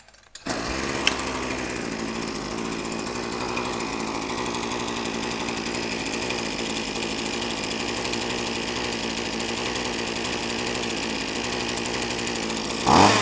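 Small two-stroke engine of a used Japanese Talaka K4 brush cutter runs steadily at idle for about thirteen seconds, a continuous buzzing drone close by with no talk over it.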